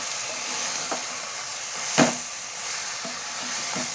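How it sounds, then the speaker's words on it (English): Marinated chicken coated in pepper powder, turmeric, salt and lemon sautéing in a pan, giving a steady soft sizzle with a few light stirring knocks, one sharper clack near the middle. "add the marinated chicken, which is marinated with pepper powder, turmeric powder, salt and lemon. Add it, saute it well"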